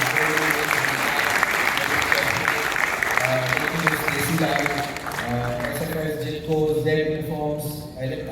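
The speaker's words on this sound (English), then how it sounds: "Can I also have a round of applause for everybody who supported us?" Applause from a banquet crowd at a chefs' association anniversary celebration, steady dense clapping for the full stretch, with music-like tones and voices blending underneath.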